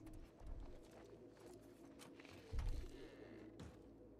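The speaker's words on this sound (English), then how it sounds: "Is there pigeons in here?" Pigeons coo softly inside a building in The Last of Us Part II, a low, muffled cooing that swells twice over steady game ambience.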